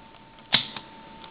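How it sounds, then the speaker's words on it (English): The front lens shutter of a Sony Handycam DCR-DVD650 camcorder opens with a single sharp mechanical click, followed by a fainter second tick, close and alone over a quiet hum. "We'll open the front shutter here."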